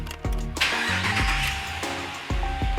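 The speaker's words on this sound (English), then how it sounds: "So now we can start the truck back up" A truck engine turns over and catches, with cranking bursts followed by a steady running rumble, close and loud, heard with no talk during an auxiliary 12V battery setup for an overlanding build.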